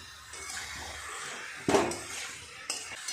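Metal utensil scraping and clanking in a pan while prawn curry with green jackfruit is stir-fried, a low sizzle underneath with two sharp clatters, close and alone.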